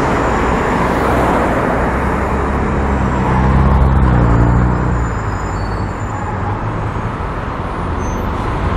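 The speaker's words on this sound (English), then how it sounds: "The 281 bus just pulling in." A 281 bus pulls into a stop on North Terrace in Adelaide, its engine rumble steady and loud alongside traffic noise, swelling briefly as it draws near and then easing off.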